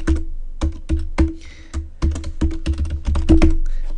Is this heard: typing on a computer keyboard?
yes